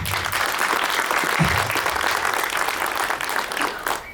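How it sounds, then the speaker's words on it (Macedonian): A crowd of parents and relatives applauding children at an end-of-year school recital in 2024, with dense, steady clapping that carries on evenly throughout. "Уште еден аплауз за оваа прекрасна деца."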